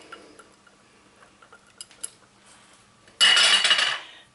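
A spoon taps and clinks lightly against a bowl as homemade mayo goes into a cooled lettuce salad, a few scattered quiet ticks followed by a louder, brief burst of scraping and clatter near the end.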